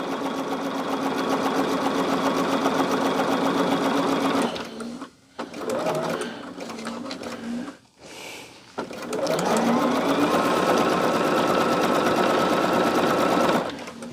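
Quilt pieces being stitched on a sewing machine starting a seam with a tacking strip, loud close motor whirring in steady bursts with two brief pauses between runs.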